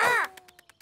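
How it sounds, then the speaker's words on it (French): A cartoon bird gives one loud, descending caw from a children's animated show, followed by faint, short repeated squawks trailing off. "Oiseau!"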